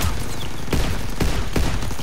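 Gunfire in Call of Duty WWII, a WWII shooter: a dense, continuous volley of shots with several louder cracks standing out, loud and close, with no talking.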